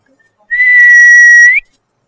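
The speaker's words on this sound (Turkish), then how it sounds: "Önce bana bir ıslık çal bakayım." One person whistles a single steady, clear note in the Turkish whistled language, held for about a second and rising slightly at the end, close and loud against silence.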